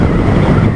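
Loud, low rumbling wind buffets a motorcycle helmet microphone throughout, a constant roaring gust with no speech.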